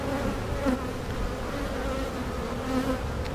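Honeybees buzz in a close, steady drone while a hive is opened for a routine inspection, with a continuous, even hum and no voices.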